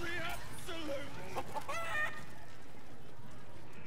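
Chicken clucks in the fantasy role-playing game Baldur's Gate 3, a short run of bright clucking calls close by for about two seconds, then fading into quiet ambience.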